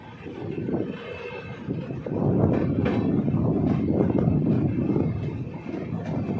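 Udaipur City Express running into Kishangarh station, a continuous close rumble of rolling wheels and carriage noise with some wind buffeting, fairly loud and steady throughout.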